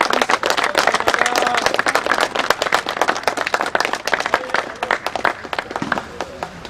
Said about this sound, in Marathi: मॅडमसाठी एकदा खरंच सगळ्यांनी जोरदार टाळ्या वाजवा.